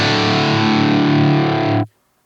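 Electric guitar played through a Blackstar St. James EL34 amp plugin: a loud, dense, distorted sustained chord ringing steadily for nearly two seconds, then cut off abruptly into silence.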